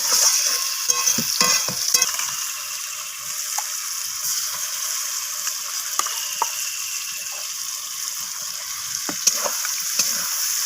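Steady oil sizzle as marinated Bombay duck fries in a pan with onion and tomato, with scraping stirs and light clinks throughout; close and continuous, no talking.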